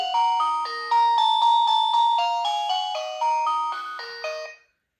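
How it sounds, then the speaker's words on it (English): A bright electronic chime melody plays repeatedly, a looping ringtone-style alarm, loud and clear, stopping abruptly near the end. "I push the call button, the alarm sounds"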